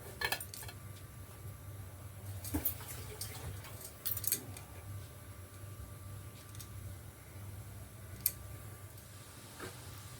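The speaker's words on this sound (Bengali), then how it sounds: "আর এর ওপর এই টিফিন বক্সটা বসিয়ে দেবো। দিয়ে এটা ঢাকাটা আটকে দিতে হবে।" A metal tiffin box set on a stand and its lid fitted shut, a few sharp clinks and taps of metal spread sparsely over a quiet, low humming background.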